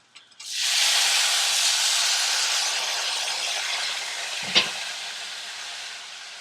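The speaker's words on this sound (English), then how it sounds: "I'm going to add a cup of dry white wine" A cup of dry white wine poured into a hot pan of shrimp and mushroom quinoa risotto bursts into a loud hiss that slowly settles into a steady sizzle, with a single utensil clunk near the end.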